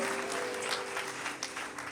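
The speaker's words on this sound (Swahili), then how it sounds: "Mpe Yesu makofi." A church congregation claps for Jesus during a sermon, a dense, steady wash of many hands applauding close by for the full two seconds, with no voices over it.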